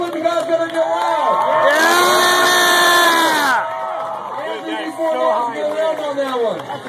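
Large outdoor crowd at the Pedalfest bike stunt jump show cheering, whooping and shouting loudly in a sustained roar that swells to a peak, with an announcer's voice amplified over the noise.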